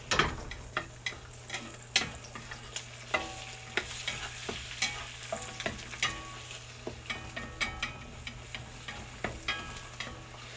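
Country fried pork steaks seasoned with black pepper sizzle in a pan while being moved around, with a constant frying hiss broken by regular scraping and tapping knocks from the utensil.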